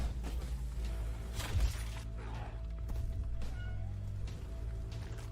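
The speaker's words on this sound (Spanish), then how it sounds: "¡Ay, mira un gatito!" A cat meows once in a video game trailer, rising briefly over a low, steady bed of music and ambient rumble.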